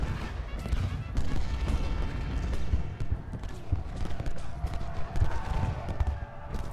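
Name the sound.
artillery shell fire in Ultimate General Gettysburg video game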